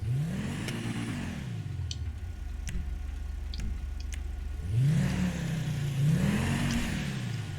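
Ocelot Jackal car in GTA 5, fitted with dual exhaust, revs its engine in two rising and falling swells with a pause between, loud and close, with light ticking over the idle.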